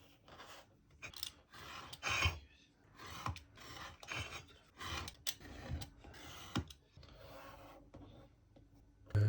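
Hand cutting of wall-decoration pieces along guide lines, a series of close rasping, rubbing cuts in irregular bursts with brief pauses between strokes.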